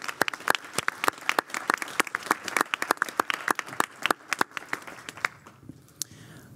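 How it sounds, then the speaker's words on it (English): An audience applauds the panelists at a talk on planetary warming, technology and resilience: dense, steady clapping from a crowd that thins out and fades during the final second. "Maybe just a round of applause for all of our panelists and all of our participants and moderators."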